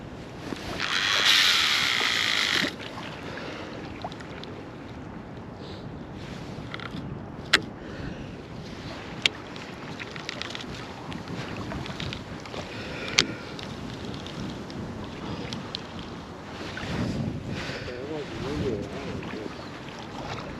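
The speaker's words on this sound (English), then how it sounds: "Yeah, it's windy." Wind gusting at a riverbank during cold early-spring bank fishing, a steady rushing buffet against the microphone, loudest at the start, with occasional sharp clicks and faint movement sounds.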